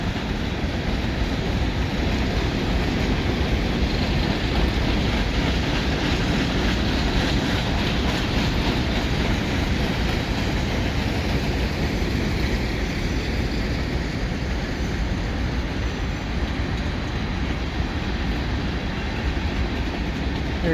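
CN mixed freight train with covered hopper cars rolling past the holding tracks, a continuous close rumble and rattle of wheels and wagons with steady rail noise throughout.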